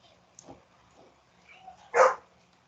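A dog gives one short, fairly loud bark near the end, preceded by a few soft, faint yips and whimpers against a quiet indoor background.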